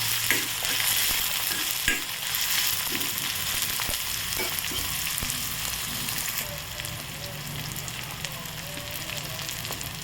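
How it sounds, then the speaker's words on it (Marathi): Onion with tomato sautéing in a pan for a vegetable pea curry, a steady close sizzle with scraping stirs and occasional clinks of the spatula against the pan throughout. "कांदा घालायचा, त्याला 5 मिनिट परतून घ्यायचं."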